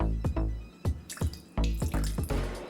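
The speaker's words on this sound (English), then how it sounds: "I'm just gonna add a little bit of water," Water trickles into beaten eggs in a bowl, coming as several short splashy pours and drips that start and stop, close up and fairly loud.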